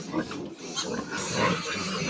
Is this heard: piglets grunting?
yes